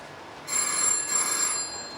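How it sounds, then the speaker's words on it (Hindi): A telephone bell rings in two bursts with a bright electronic trill, fairly close, over a low steady background hum. "फोन उठाओ जाके"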